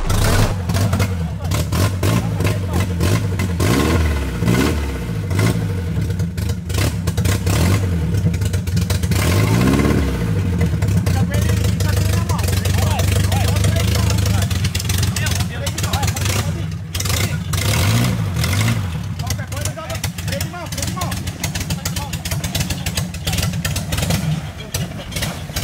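A VW Beetle (Fusca) engine being pushed in first gear while being pulled out of a ravine, rising and falling in repeated revs with a loud, rough mid-range drone, with people shouting over it.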